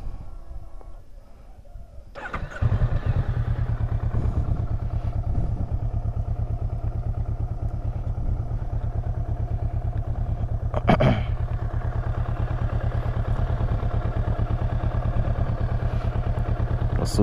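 A 2018 Kawasaki Versys 650 ABS Tourer motorcycle climbs over unstable, rough terrain. The engine starts out quietly, then rises to a loud, steady drone with clattering and thumping, and a brief sharp knock comes near the middle.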